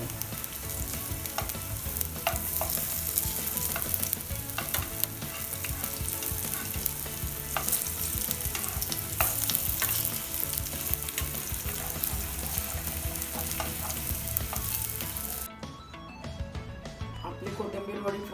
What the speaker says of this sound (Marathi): कोथिंबीर वडी फ्राय करून झाली आहे.